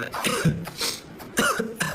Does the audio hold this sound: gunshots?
no